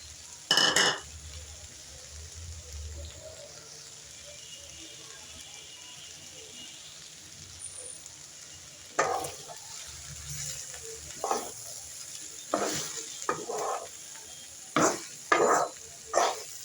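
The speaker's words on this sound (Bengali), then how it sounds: "এখন ভেজে রাখা চিংড়ি মাছটা দিয়ে দিচ্ছি।" Fried shrimp tossed into a bitter gourd fry, with a quiet background sizzle and sporadic sharp clinks and scrapes of a spatula stirring the pan, growing busier in the second half; a voice is faintly present.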